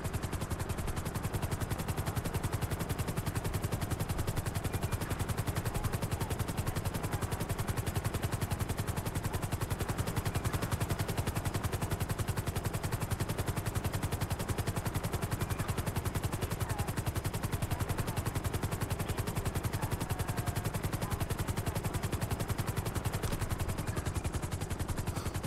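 Helicopter in the video game GTA 5 flying, a loud, continuous rapid rotor chop with a steady engine drone filling the whole stretch, unbroken and even in level.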